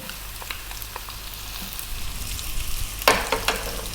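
Onion hitting hot oil with garlic and ginger on high heat for a vegan Chinese tofu cabbage dish, a steady sizzle with a sharp crackling burst near the end, close and alone.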